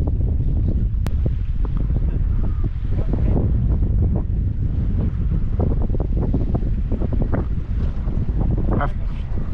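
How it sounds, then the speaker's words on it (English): Strong wind buffets a fishing boat out on the water at low tide, a loud constant roar of wind against the microphone with waves slapping and occasional clunks on the hull. "So now we're braving the wind and we're back out in amongst it."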